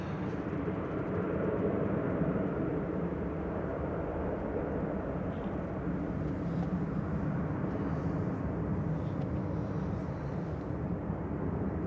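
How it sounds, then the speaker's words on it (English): A Virgin Airbus A350-1000 jet heading to Orlando from Manchester Airport makes a faint, distant, steady engine rumble that holds evenly throughout with no voices. "That was Virgin Flight 75 heading over to Orlando, an A350-1000 GVVE."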